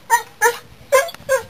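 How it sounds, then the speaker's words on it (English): A dog at an outdoor art fair lets out four short, close whimpering yips in an uneven rhythm, loud and clear with no talking. "Oh, we got another dog coming over."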